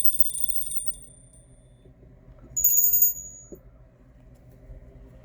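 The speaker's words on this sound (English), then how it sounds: "I'm going to ring a couple bells, clear my thoughts, clear the air." A small bell rings at the start and fades, then after a quiet gap a second bright strike rings out and decays, close by over a low room hum.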